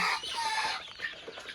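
Egyptian Fayoumi chickens, 45 days old, cluck and call in a short burst on a farm, fairly faint and without speech.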